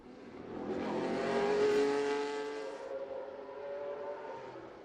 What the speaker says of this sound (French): Une Porsche 910 de 1967.